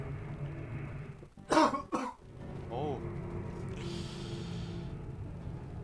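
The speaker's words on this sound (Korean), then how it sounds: "아, 왜 이렇게 기침이 나냐?" A person gives a short burst of two or three harsh coughs close to the microphone, over a quiet, steady background hum from a computer game.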